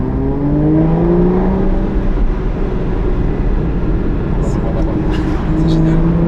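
Aston Martin DBS engine decelerating, a steady loud rumble with falling tones easing off throughout, with voices talking over it.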